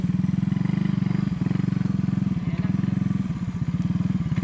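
A motorcycle engine chugs steadily at close range, its low rhythmic putter rising and falling as it goes by.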